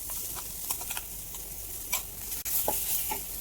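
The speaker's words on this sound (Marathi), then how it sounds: "त्याला मध्यम आचेवर 5 ते 6 मिनिटं परतून घ्यायचं आहे।" Pea paste for a matar kachori filling is sautéed in a pan over medium heat, with a steady close sizzle broken by repeated scrapes and stirs of a spoon.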